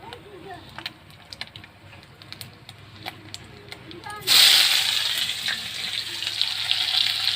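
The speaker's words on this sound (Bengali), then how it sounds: "এখানে দিয়ে দিচ্ছি পেঁয়াজ কুচি, একটু ভেজে নেবো।" Chopped onion goes into hot oil in a wok while katla fish curry is cooked. A sudden loud sizzle bursts in midway and keeps going steadily, after a quieter stretch of faint clicks and kitchen sounds.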